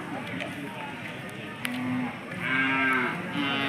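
Cattle moo repeatedly at a cattle fair in Turuvekere taluk, with several low drawn-out calls overlapping amid the murmur of a crowded outdoor gathering and faint voices.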